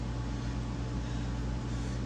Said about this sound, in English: Sorry for the noise in my heater.